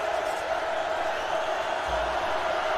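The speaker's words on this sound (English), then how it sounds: "Listen to this crowd. They are just as loud as they were in the first half." A large football stadium crowd at an NCAA FCS championship playoff game, Delaware versus Montana, roars as a steady, dense wall of noise, with faint cheers and whoops rising from the mass of fans.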